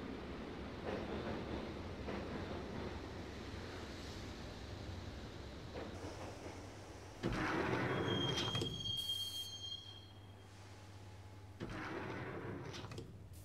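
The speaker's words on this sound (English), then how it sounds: "the train doors had already shut behind me, and I was in for the ride" Train ride in the Max Payne video game, a steady rumbling rail carriage with clattering wheels, a sharp squeal of metal wheels midway, and a louder surge of rolling noise toward the end.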